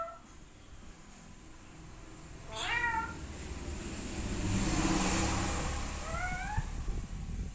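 A pet parrot imitates a cat's meow indoors, giving two rising meow calls a few seconds apart over a faint background engine hum and a swelling passing-vehicle noise, with no talking.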